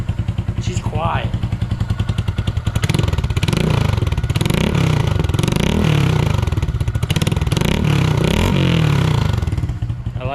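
Close-up engine of a 2022 Honda Grom motorcycle fitted with an inexpensive Amazon aftermarket exhaust, revving repeatedly in rising and falling bursts over a loud continuous idle rumble.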